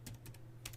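Keys tap on a computer keyboard as a network configuration command is entered, with a few quick, quiet clicks in short bursts over a low background hum.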